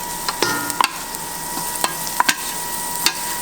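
Garlic and leeks sizzle in olive oil in a pot for chicken spinach and potato soup, with a steady low frying hiss broken by several sharp clicks and taps of a stirring utensil.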